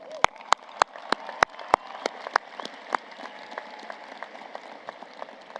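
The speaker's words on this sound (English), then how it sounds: "Please give them a round of applause." A commencement audience applauds families, opening with a run of loud, sharp, evenly spaced claps that thin into scattered, fainter claps over several seconds.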